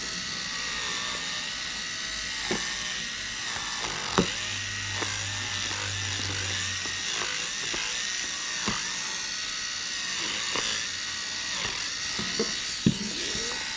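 Nose hair trimmer buzzing against fabric as it cuts through sewing seams, a faint continuous high whir with small irregular clicks and snags, plus a brief lower hum partway through.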